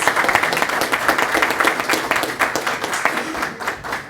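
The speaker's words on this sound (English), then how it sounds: "Let's have a round of applause for Antonio Gonzalez." Guests at a career signing day ceremony applaud a new hire joining a contracting company, a loud, close burst of many hands clapping that holds steady before tapering off slightly at the end.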